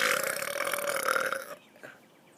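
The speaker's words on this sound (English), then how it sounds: "Time for a long burp." A person lets out a long burp, loud and rough at first and then trailing off into quieter gurgles near the end, with no one talking.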